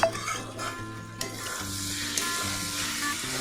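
Chilli paneer sizzles and fries in a pan while a utensil stirs it, steady close frying hiss with scraping stirs and a few knocks against the pan.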